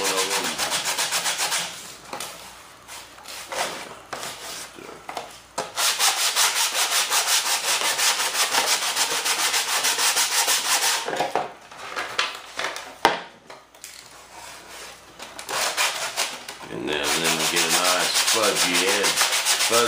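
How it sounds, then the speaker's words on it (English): Edges of Kevlar fuel tank parts being sanded by hand, in bursts of close, loud abrasive scrubbing strokes separated by short pauses, with no voices. "Oh, I need to sand these edges."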